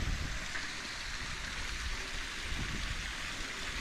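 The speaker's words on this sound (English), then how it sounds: "There's the waterfall. Oh, it's not super flowy." A small, low-flowing waterfall in Belair National Park gives a steady, soft broadband rush of falling water, even and continuous throughout with no voices.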